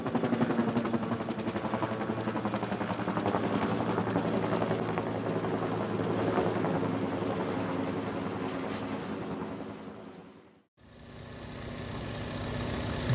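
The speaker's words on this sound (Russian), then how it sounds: "Вертолет." A helicopter rumbles steadily with a throbbing rotor beat that stays loud and close, then breaks off briefly before a steady engine drone resumes, with no voices present.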